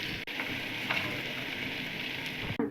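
Vegetables sizzle and fry in hot masala, a steady, close hissing crackle that continues without a break and is heard alone.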